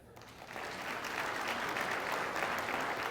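An audience at a talk claps together, applause rising quickly after a brief quiet start and holding as a steady, fairly faint wash of clapping from a crowd in a hall.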